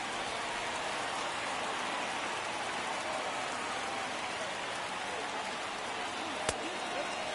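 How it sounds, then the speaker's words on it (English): Steady, moderate rain falls throughout a baseball game, a constant even hiss with one sharp click near the end, and a commentator's voice faint beneath it. "And raining all game, not super heavy."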